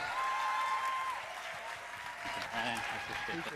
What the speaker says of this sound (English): We need to really give him a round of applause.